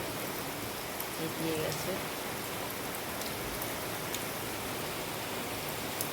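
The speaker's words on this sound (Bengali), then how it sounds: "অবশেষে বৃষ্টিটা হচ্ছে, এটাই অনেক শান্তি।" Steady rain pouring down outdoors, a dense even hiss of drops on surfaces that holds at the same level throughout, with a few words spoken briefly over it.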